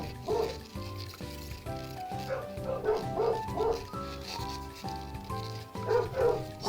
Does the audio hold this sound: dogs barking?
yes